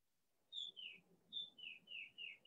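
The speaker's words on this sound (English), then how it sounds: "Oh, there's the birds. You hear the birds?" Small birds chirp outdoors in a series of bright, high repeated calls, several short phrases coming one after another at moderate distance over a faint low background rumble, with no speech.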